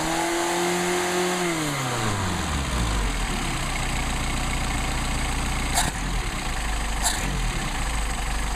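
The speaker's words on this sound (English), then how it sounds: "That's a nice tractable engine" A multi-carburetor engine revs up and then drops back to a steady, loud idle, its note stepping down over the first few seconds before holding a rough, even rumble.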